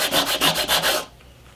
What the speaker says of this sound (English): So I've just got some 60 grit sandpaper here on a flat surface, and I'm just scrubbing them down